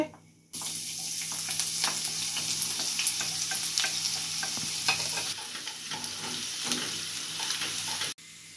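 Chopped onion hits hot oil for a Bangladeshi-style chicken korma and sizzles loudly and steadily, with scraping stirs and small clinks over the frying hiss, ending abruptly.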